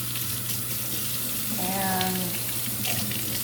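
Cold tap water runs steadily into a sink while a soapy brush is rinsed, a constant close hiss joined briefly by a voice in the middle.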